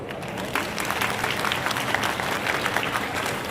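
A crowd claps together at a Hamirpur festival stage show, steady dense applause throughout the short stretch with faint crowd noise mixed in.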